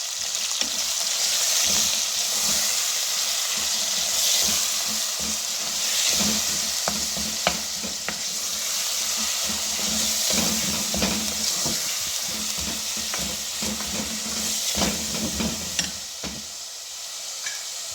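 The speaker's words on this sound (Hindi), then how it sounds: "अब हम इसमें 1 पाव ना बीफ का कीमा वो ऐड करेंगे और भूनेंगे" Beef keema mince frying in a pan over golden-fried potatoes, with a loud, continuous sizzle and frequent scrapes and clinks of a spoon stirring against the pan throughout.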